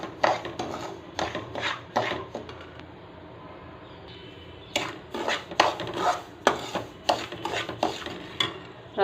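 Semolina (rava) is roasted in a pan while a metal spoon scrapes and clinks against it in quick repeated strokes, pausing for a couple of seconds midway before the brisk stirring resumes.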